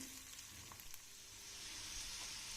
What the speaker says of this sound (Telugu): ఇదిగోండి తాలింపు వేగింది